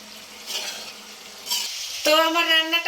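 Ground toasted cumin is stirred into a curry sizzling in a pan, giving steady close frying hiss with scraping stirs, then a brighter harmonic tone joins near the end.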